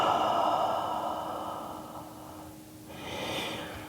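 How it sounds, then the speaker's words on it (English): A person exhales deeply during a vinyasa yoga flow, a long breathy rush of air that fades over a few seconds, followed by a softer second breath, close and alone. "Take a deep breath in. Big exhale here."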